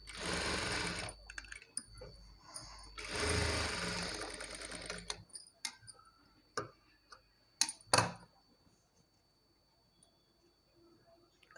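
Sewing machine stitching a straight seam on fabric for Punjabi dress pants, bursts of fast mechanical whirring and ticking up close, then stopping into sparse clicks and handling noises.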